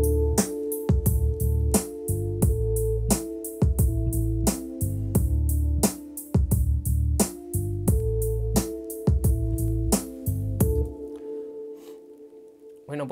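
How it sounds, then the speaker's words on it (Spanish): Clean rap instrumental beat built from seven tracks, with punchy drums, deep bass and a looping melodic line in a steady rhythm, playing loud and alone before the beat drops out near the end. "Y la instrumental suena así de limpia."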